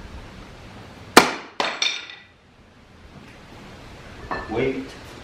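A couple of sharp hammer strikes ring out on a hard floor during durability testing of floor planks, followed by a quieter clatter, with a brief pause between.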